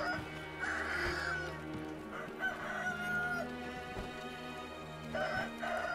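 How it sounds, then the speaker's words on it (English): Chickens crow and cluck in the video game Sekiro: Shadows Die Twice. Several crows rise over a faint, steady backdrop of game ambience. "You know what, chickens? You have your fun."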